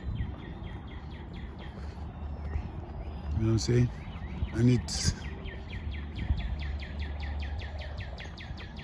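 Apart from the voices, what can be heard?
birds singing on a nature walk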